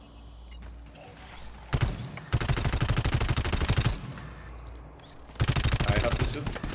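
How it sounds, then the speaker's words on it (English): Bursts of rapid automatic gunfire from the co-op shooter game GTFO, two sustained volleys with single shots and clatter between them, while a player talks faintly. "I have to shoot."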